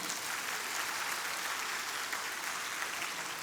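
Steady, dense applause from a church gathering audience, even and continuous throughout, heard from a distance with no break.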